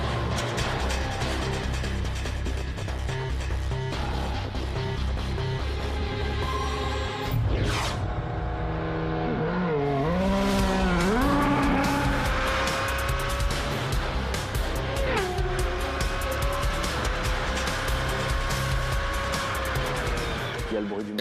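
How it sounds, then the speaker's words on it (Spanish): Formula One race car engine roars with rising and falling pitch sweeps as it passes, with brief tire squeal, loud and continuous throughout, over a dense background of crowd and track noise. "Está el rugido del motor."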